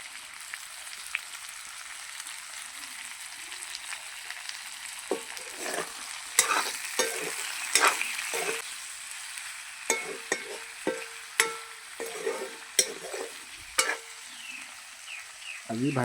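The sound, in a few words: broiler chicken meat cooking in a pan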